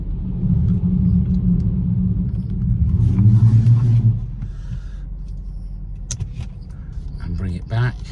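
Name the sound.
BMW 118i M Sport engine starting and running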